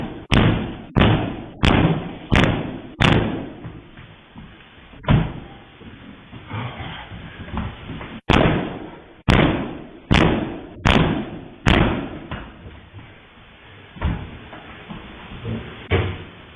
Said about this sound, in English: This nigga's kicking down doors